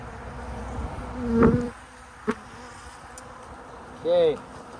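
Honeybees being dumped into a new hive box buzz near the microphone, with a sustained rising hum toward the end after a couple of brief knocks.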